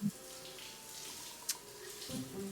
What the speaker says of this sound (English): you hear like a shower going inside of the locker room as you're walking past